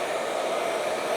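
A hair dryer blows steadily and loudly up close while styling layered, face-framing hair, a constant whooshing roar with no pauses or talk.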